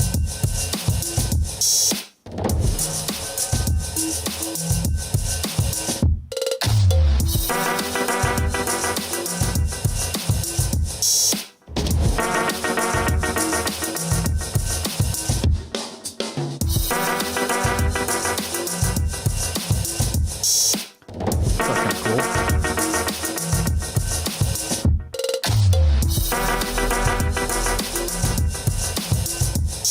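A beat made on an MPC with cowbells and cinematic drums, loud layered percussion in a repeating loop with short breaks between phrases, playing alone without speech.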